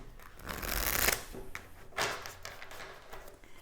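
Tarot cards are handled and shuffled up close, with soft papery riffles, slides and light taps in short bursts, including a longer riffle near the start.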